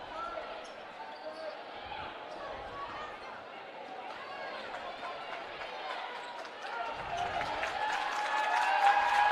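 Crowd cheering and applauding in a gym at a girls high school basketball sectional game, a steady roar under sneaker squeaks and court noise that swells louder toward the end.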